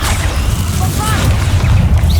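Bombarda spell explosion in a Harry Potter video game, a loud, heavy boom with sustained low rumble and crackling debris amid dense combat sound, a voice faintly mixed in.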